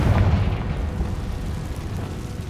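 A Confringo blasting spell bursts in Hogwarts Legacy, a loud, dense explosive roar that hits at once and keeps rumbling low and heavy as it slowly fades.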